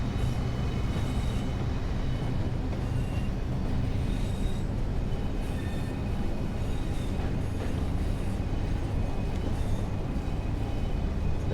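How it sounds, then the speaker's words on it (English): Simulated train from Train Sim World on the West Coast Main Line between Preston and Carlisle, with a steady low rumble and rolling rail noise running unbroken and fairly loud throughout, with no talk. "Let's see if I can get this train up to speed without blowing my overload relay."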